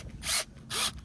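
A power drill bores into a tree trunk for micro-injections, two short whirring bursts of the bit biting into wood with a brief pause between them, close and alone.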